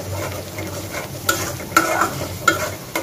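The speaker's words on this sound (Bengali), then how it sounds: "বাদামটা দিয়ে কিছুক্ষণ কষিয়ে নেব" Ground raw peanut paste sautéed in a pan for a greens dish, steady sizzling under repeated spatula scrapes and taps against the pan, close and clear with no voices.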